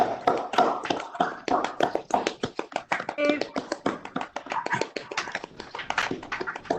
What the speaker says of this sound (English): we can give a good applause